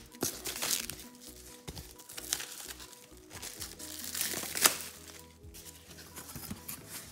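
A box cutter slices through plastic sheet as printmaking prep, giving close, irregular crinkling and crunching with sharp scraping bursts and a loud snap near the middle, no voices.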